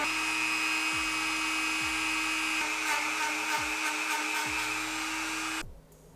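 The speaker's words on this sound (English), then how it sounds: "all those little cracks and crevices there, I need to like grind them out a little bit more" Small rotary tool grinding out cracks in a plastic Ford Fiesta ST front bumper, a high, steady whine with brief dips as it bites, close up, stopping abruptly near the end.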